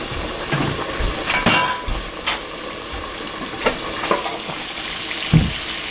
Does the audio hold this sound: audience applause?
no